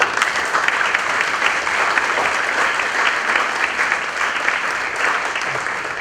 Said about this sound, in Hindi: भाई एक तालियां बजा दो अपने टीचर